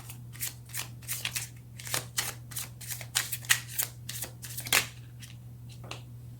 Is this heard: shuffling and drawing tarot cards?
yes